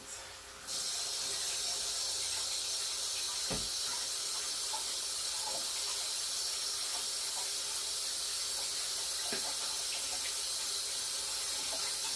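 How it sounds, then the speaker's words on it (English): Steady hiss of water running from a tap into a sink as hands are washed, continuous and fairly close, with a couple of faint clinks and no talking. "I'm going to wash my hands."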